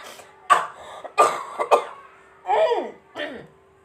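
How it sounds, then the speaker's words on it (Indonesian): A person coughs several times in short, harsh bursts close to the microphone, with a steady faint hum underneath. "kebeledugan anjir aing batuk"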